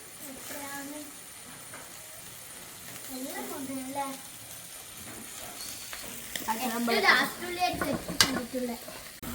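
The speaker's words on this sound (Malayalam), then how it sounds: "നമ്മളപ്പോ ക്യാപ്സിക്കം വറുത്തോണ്ട് പോവുകയാണ്" Capsicum sizzles and is stirred in a frying pan, a close crackling fry with occasional scraping clinks growing louder toward the end, and a voice speaking over it.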